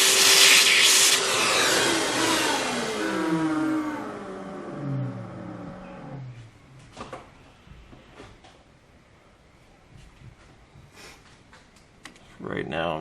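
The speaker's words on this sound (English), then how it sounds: "I'm going to get my vacuum and clean that up real quick" A shop vacuum cleans chips off a lathe workpiece in a machine shop, running loud and steady for about six seconds before shutting off, followed by quieter handling clatter and small knocks.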